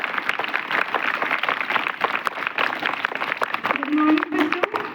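An audience at a Teacher's Day celebration claps at moderate volume, dense and continuous, with chatter and a voice mixed through the clapping.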